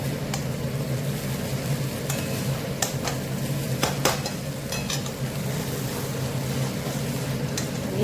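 Chow mein with peanuts stirred in a frying pan: a steady sizzle under repeated scraping of utensil against metal, with a few sharper clinks, close and continuous.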